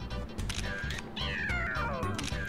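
Meowth cries in the Pokemon Snap video game, a few rising and falling meows over a steady, rhythmic low game background loop, with the camera shutter clicking faintly.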